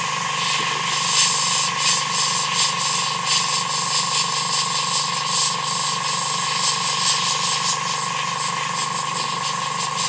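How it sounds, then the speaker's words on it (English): Steady compressor hum with a continuous hissing spray layered on top, flickering slightly in intensity as the airbrush is worked while spraying small mottled patterns on an Eduard Spitfire scale model. "we will have the sound of the compressor and the airbrush"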